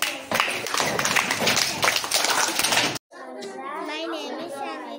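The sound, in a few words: children clapping in a classroom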